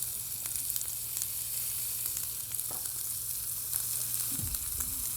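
Frozen ground beef sizzles and browns in a pan, a quiet, steady hiss with faint spatters and a brief scrape near the end.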